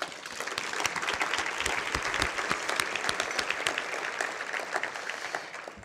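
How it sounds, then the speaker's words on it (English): Loud, sustained applause from a large banquet audience fills the space, many hands clapping in a thick continuous patter that tapers slightly at the end. "So let's give them a round of applause."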